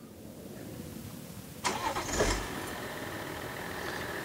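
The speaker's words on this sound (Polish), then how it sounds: "Teraz musimy uruchomić silnik." A car engine cranks and catches with a brief roar during a battery test, then settles into a steady idle, heard close after a quiet moment.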